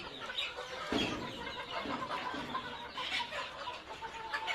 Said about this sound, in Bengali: এই যে মুরগি দেখেন